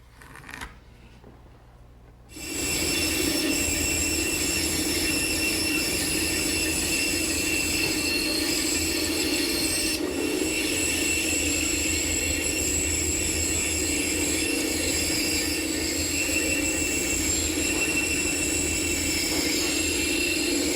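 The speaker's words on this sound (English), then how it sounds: "I'll rough it out at the bandsaw." Bandsaw roughing out a curved wooden rail from a 7/8-inch-thick piece of stock. After a quiet start, the machine starts up and keeps a loud, steady whine and buzz of blade and motor for nearly twenty seconds.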